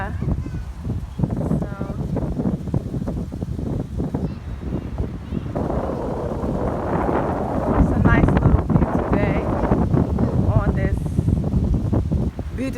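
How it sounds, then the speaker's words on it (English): Strong wind blows at a tropical beach with palm trees in Dar es Salaam, Tanzania, buffeting the microphone with loud, rumbling gusts that grow stronger midway, while a person talks over it. "It's a little windy, so I hope you can hear me okay."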